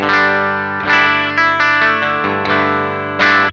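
Sustained, heavily saturated electric guitar chords through a Catbox Customs Fuzz Club pedal into a Boss Katana amp, with a thick buzzy fuzz tone, struck several times and left ringing between hits, loud and upfront with no talking.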